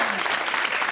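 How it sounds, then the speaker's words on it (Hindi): Studio audience applauding on a Pakistani TV talk show, a dense, steady wash of clapping filling the whole short moment without a break. "एक सेकंड तालियां"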